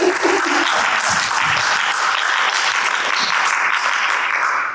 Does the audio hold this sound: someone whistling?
no